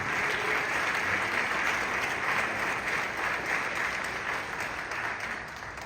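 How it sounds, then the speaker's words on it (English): A large audience at the AAPI Caucus on day one of the 2024 Democratic National Convention claps continuously, a dense steady wash of applause from start to finish that eases slightly at the end. "Let's give this amazing audience a welcome round of applause."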